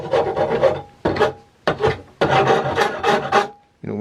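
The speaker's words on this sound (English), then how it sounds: "You can just take your little file or a big file and get those sharp edges off." A hand file rasps across the sharp edges of a flared metal tube clamped in a vise, making repeated close scraping strokes in an uneven rhythm with short pauses between them.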